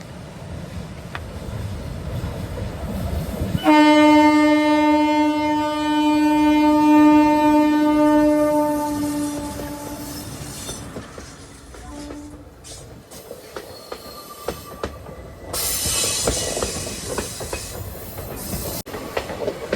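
A train on the Thenmala–Tenkasi route rumbles past nearby, its horn sounding long and loud, followed by rhythmic clacking of wheels over the rails that fades away.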